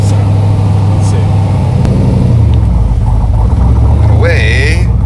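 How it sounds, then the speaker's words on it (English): A 1967 Corvette C2 with a 427ci 435HP Tri-Power V8 rumbles steadily and loudly close by, its low engine note swelling slightly as revs rise, with people talking over the running motor. "this is the pinnacle of the Corvette. I mean, listen to it. It sounds amazing."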